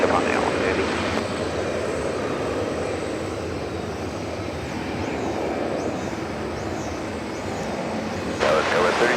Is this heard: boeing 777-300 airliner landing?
yes